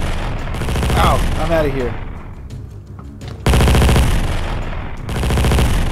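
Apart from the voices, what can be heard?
gunfire in Minecraft, a video game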